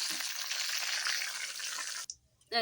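Dried red chillies, bay leaf and cumin sizzle loudly in hot oil in a kadai, a bright continuous crackle that cuts off abruptly near the end, followed by a brief quiet moment and a short burst of noise.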